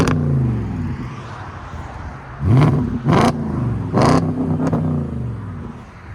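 A 2012 Audi S5 with a 4.2L V8 and muffler delete idles with a deep rumble, then barks out three sharp, loud revs in quick succession, each settling back to a burbling idle. No one speaks.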